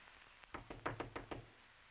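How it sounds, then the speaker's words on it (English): Six quick, muffled knocks in a steady rhythm, faint and close, like knuckles rapping on a telephone or door in an old comedy scene. "Somebody knocking on the phone."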